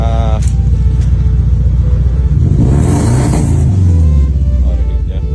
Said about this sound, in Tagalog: Yan ang tunog ng misfire.